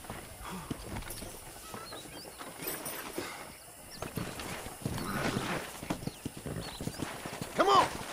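Horse hooves clip-clopping as a rider sets off in Red Dead Redemption, a steady galloping patter under music and game ambience, with a brief whinny near the end and a voice talking at times.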